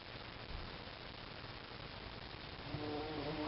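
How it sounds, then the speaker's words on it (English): A bee buzzes in a vegetable garden among lettuce and eggplants, a faint, steady drone under soft outdoor ambience throughout, with a slightly stronger tonal hum near the end. "We have an angry bee in here."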